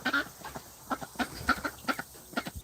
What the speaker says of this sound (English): We have some ducks inside of there.